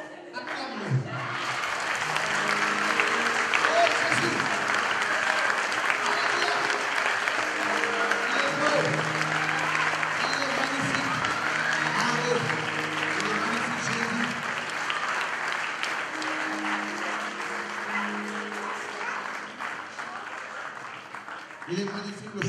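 A church congregation in Orléans claps loudly and steadily as sustained applause, while voices and shouts carry through over the clapping.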